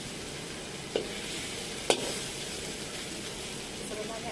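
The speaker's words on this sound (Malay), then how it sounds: "Kita goreng dengan api kecil." Belacan shrimp paste fries in a little oil in a pan over low heat, giving a soft, steady sizzle with a couple of sharp pops or scrapes.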